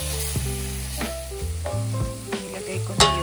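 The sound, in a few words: onion and garlic sizzling in a pan for pork afritada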